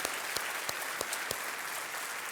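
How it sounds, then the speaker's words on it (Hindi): On the KBC quiz show set, a studio audience gives a contestant loud, continuous applause, a thick, close wash of clapping with a few sharper claps standing out, and no voices on top. "एक बार फिर ताज मोहम्मद के लिए तालियां हो जाए।"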